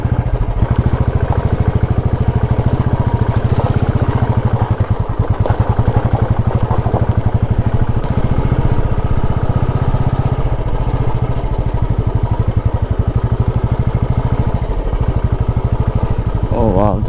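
A Hero XPulse motorcycle climbs off-road through hills, its engine thumping loud and close with a continuous rough revving drone that varies with throttle, and a rider's voice occasionally breaks in.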